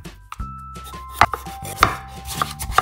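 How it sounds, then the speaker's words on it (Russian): Knife chopping raw pumpkin into small pieces on a cutting board, a series of crisp, close chops at an uneven pace with no talking. "Тыкву нарезаем на небольшие кусочки"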